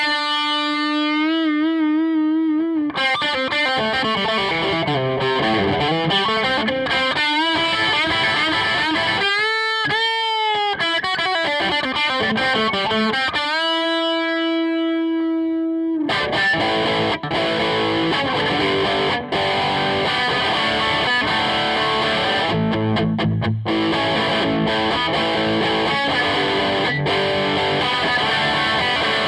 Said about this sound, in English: Now that thick and beautiful sound you heard just now was a Gibson Les Paul, an iconic electric guitar